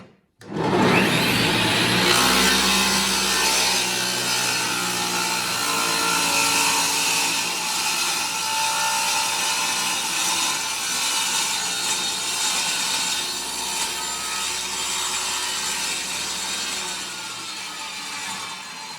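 Table saw with its blade spinning up and cutting through wood, a loud whining, rasping drone starting abruptly and holding steady for the whole stretch, close and without talk.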